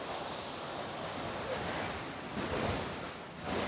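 Chadwick waterfall running full in the monsoon season, a steady, dense rush of falling water that roars on without a break, with slight swells in loudness.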